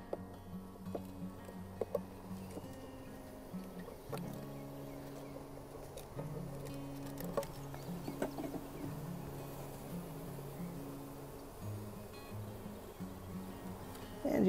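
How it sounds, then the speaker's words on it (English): Honeybees from a freshly installed bee package hum and drone close by in a steady, wavering buzz that runs throughout, broken by occasional soft knocks and handling noises, with no talking. "And you're probably gonna get some bees out."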